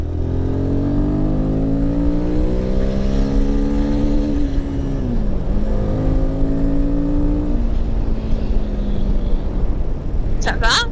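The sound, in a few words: motorcycle engine accelerating uphill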